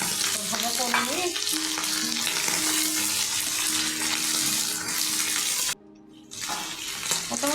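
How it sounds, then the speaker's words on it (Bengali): Mutton liver, potato and onion fry loudly in a pan, a dense continuous sizzle with stirring scrapes and a low steady hum, briefly dropping away for a moment before the sizzle returns. "একসাথে পেঁয়াজ, আলু আর মেটেটা ভাজা করবো"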